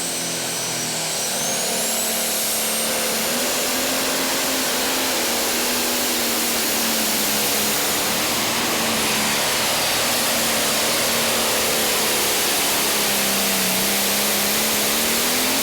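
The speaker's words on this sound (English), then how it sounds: "This is the John Deere 8410." A John Deere 8410 pro stock tractor roars through a pull at the NTPA Grand Nationals in Hutchinson, Minnesota, its engine a loud, sustained high whine whose pitch wavers and drifts steadily throughout.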